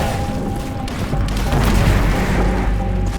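A rocket blast in the shooter Incision: a loud, sustained booming roar with heavy low rumble and crunching debris, filling the whole moment close up with no speech over it.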